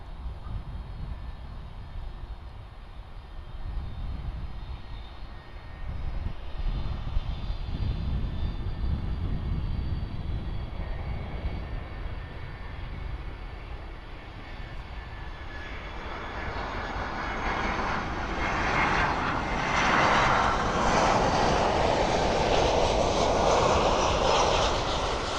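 A former Polar Air cargo plane at Miami Airport gives a distant, continuous engine roar that swells gradually louder and brighter over about twenty-five seconds, with no voices.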